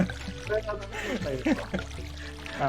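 A watering can is filled with seawater in Stardew Valley, a brief splashing pour heard under a person talking.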